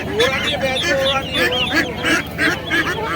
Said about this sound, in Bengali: চীনা হাঁসের বাচ্চা রয়েছে এখানে 140 টাকা করে পিস